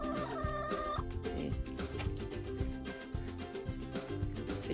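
Chickens cluck and squawk in a busy, overlapping chorus, fairly close and moderately loud.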